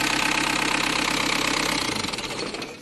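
A Mahindra Scorpio CRDe turbo diesel engine is shut off. Its steady close knocking rattle runs on, then loosens and fades into a shudder as the engine stops.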